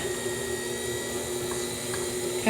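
A stand mixer beats egg and butter together, a loud, steady motor whir with a constant high whine running unbroken throughout.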